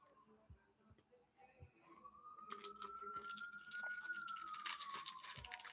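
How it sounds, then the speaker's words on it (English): Emergency vehicle sirens on a busy New York City night, a rising and falling wail carrying from a distance through street noise, growing steadily louder and more persistent over several seconds. "Busy night in New York City. The sirens, yep."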